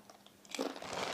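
Crunchy Indonesian peyek cracker being bitten and chewed up close, a burst of crisp crackling that swells midway and continues for about a second with no talk.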